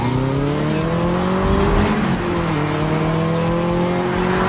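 A Bentley Continental GT sports car with a 6-liter twin-turbocharged engine drives past loudly, its engine note rising and shifting with a tire squeal, continuous and close throughout.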